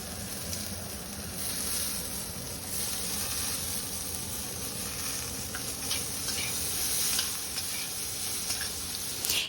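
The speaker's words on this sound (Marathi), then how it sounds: "हळद टाकल्यानंतर आपण आता टोमॅटो टाकूयात." Tomato and turmeric sizzle steadily in a pan with curry leaves for a Marathi cauliflower curry, a continuous close frying hiss with faint stirring scrapes and no talk.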